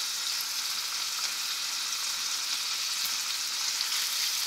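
Garlic shrimp frying in a pan, a steady bright sizzle that holds at an even level throughout with no speech over it.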